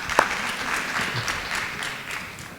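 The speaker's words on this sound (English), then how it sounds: "Clap well if you want to clap now." Scattered applause from an audience at a talk on law practice, fairly soft and steady with a few louder claps near the start.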